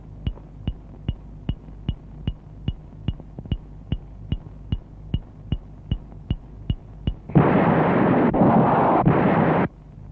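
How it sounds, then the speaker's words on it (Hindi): Warehouses blown up in a 1980s Hindi film scene: a steady ticking runs for about seven seconds, then a loud, roaring blast surges and rumbles on for a couple of seconds before cutting off. "आज उस हरामजादे ने मेरे सारे गोदामों को उड़ा दिया"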